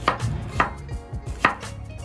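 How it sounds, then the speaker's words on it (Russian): A knife chops an onion into half rings on a cutting board, three crisp strikes at an uneven pace, close and clear with no talking. "Лук нарезаю обычными полуколечками."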